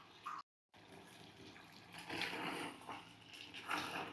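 Water pours into a pot of mutton curry seasoned with salt and chilli, a soft, gushing splash after a brief silence, continuing steadily and fairly quietly.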